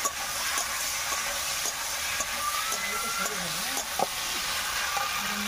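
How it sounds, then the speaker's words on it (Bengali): Ground coriander, cumin and dried red chilli paste frying in a pan for a tilapia fish curry, stirred as it cooks: a constant loud sizzle with scattered scrapes and taps of the spoon. "একটু নাড়াচাড়া করে নিই"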